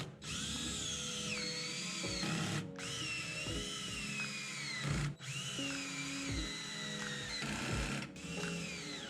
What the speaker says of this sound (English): then I go ahead and hit it with the drill